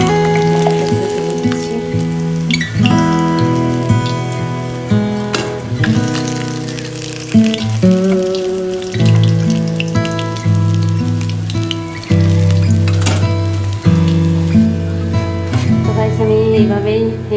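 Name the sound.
fish frying in oil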